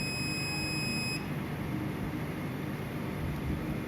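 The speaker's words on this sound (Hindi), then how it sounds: "देखिए ये सब जगह पे बीप दे रहा है, मतलब ये हो गया ग्राउंड।" A multimeter in continuity mode sounds a steady high-pitched beep while its probes touch ground points on a laptop board, a continuous tone for about a second that then cuts off, leaving constant hiss.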